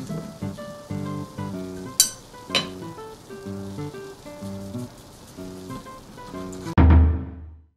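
Shellfish such as abalone, turban shell and clams cook over charcoal on a small shichirin grill, giving soft popping, crackling and dripping hiss with a few sharp clinks, ending in a louder burst.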